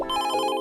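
A telephone rings with an incoming prank call, a brief, loud electronic ring burst heard alone.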